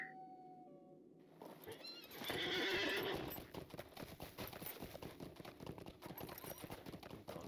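In Lord of the Rings Online, a horse gives a loud whinny after a brief game chime, then its hooves clip-clop in a fast, steady rhythm, close and continuous to the end.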